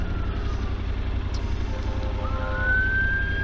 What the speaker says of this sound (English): I also hear fire trucks and such coming.